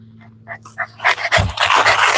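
A dog inside a car pants rapidly and lets out high, thin whimpers, close and fairly loud, the breathy panting growing denser toward the end.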